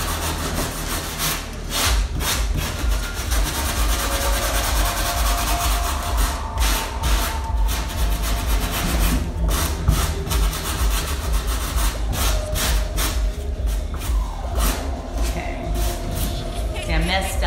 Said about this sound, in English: Just gonna sand it. Try to smooth it the best I can.